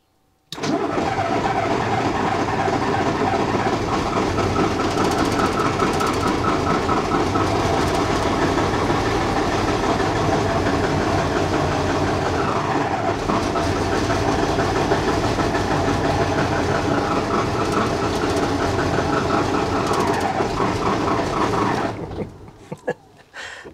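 An old Magirus truck engine cranks and fires, then runs as a loud, continuous, rough diesel rumble with rhythmic clatter for over twenty seconds, close by, before shutting down and fading out.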